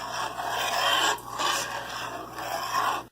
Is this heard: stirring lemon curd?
yes